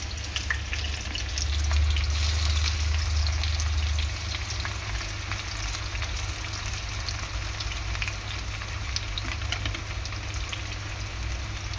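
Onion and tomato fry in hot oil in a pan, a steady close sizzle with crackling spatter that holds at an even level throughout, no voices.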